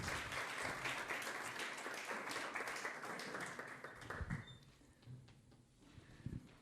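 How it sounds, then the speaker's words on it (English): An audience applauds for a contestant taking the stage at a local singing competition, a dense wash of clapping that holds steady for several seconds, then thins out and fades into scattered claps and room noise. "Let's give her a round of applause."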